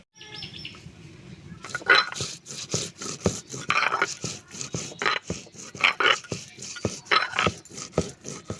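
Ginger and cumin ground into a paste, heard as steady rhythmic scraping strokes that begin after a short quiet opening and carry on close and fairly loud.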